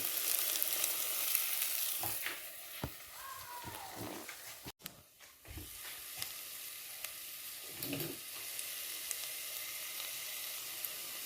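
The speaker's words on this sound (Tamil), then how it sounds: "தக்காளி பண்ணி இப்போ வதங்கி வந்துட்டுது நான் மஞ்சள் போட போகிறேன்" Tomatoes sauté in a pan as turmeric goes in, with a soft, steady sizzle underneath and scattered clicks and scrapes of a spoon stirring close by.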